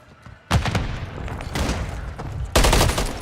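Heavy gunfire in Call of Duty Modern Warfare 3 as a frag grenade is thrown: sudden loud bursts of rapid shots and blasts in two main waves, close and dense, with no speech.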